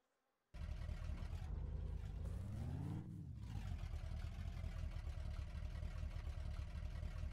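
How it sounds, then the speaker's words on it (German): Car engine in the video game Dead Island, a steady mid-pitched drone that starts abruptly, swells into a brief rev and then holds a constant loud hum, with no talking. "Das ist definitiv eine Autofahrt."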